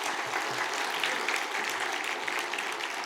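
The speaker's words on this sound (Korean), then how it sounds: "우리 하나님께 큰 영광의 박수를 올려드렸으면 좋겠습니다" A church congregation at a worship service breaks into applause, a steady even wash of many hands clapping at moderate distance with no break.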